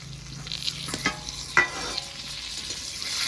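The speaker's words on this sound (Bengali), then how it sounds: "এবার মাছের ডিমটা ভেজে নেব" Fish roe frying in hot oil in a kadai gives a steady close sizzle, broken by a few sharp spatula taps and crackles, with no voices.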